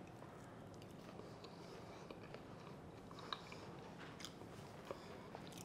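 Someone chews crispy puri bread with potato masala close to the microphone, making soft, repeated crunches and bites under a faint constant hiss.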